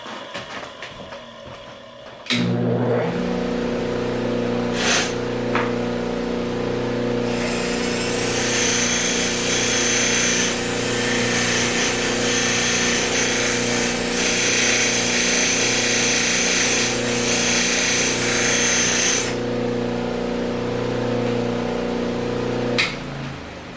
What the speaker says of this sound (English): run this against a wax wheel just to clean it up